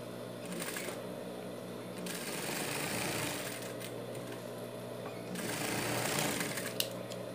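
A sewing machine stitching a dog bandana, a close, steady rapid mechanical whir with louder bursts around 2–3 and 5.5–6.5 seconds, ending in a small click, with no speech.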